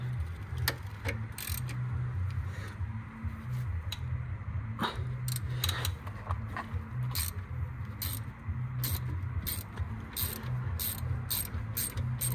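Ratchet undoing a brake caliper bolt on a Ford Focus MK2 1.6 TDCI during a front brake pad and disc job at home, with rapid repeated clicking bursts over a steady low hum, close and fairly loud.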